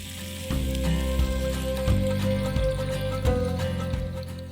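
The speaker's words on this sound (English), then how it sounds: "I put some bacon on the barbecue to start the day right" Bacon sizzling on a campsite barbecue, a loud continuous crackling hiss with occasional pops and scraping knocks, heard up close without talk.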